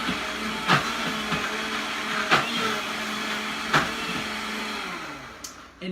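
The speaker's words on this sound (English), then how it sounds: "I had it on a very low speed because it is a blender, so I'm using it as a food processor" A blender runs at very low speed as a food processor, working a mixture loosened with olive oil: a steady motor whir and hiss with three sharp, regularly spaced thumps as the contents knock around.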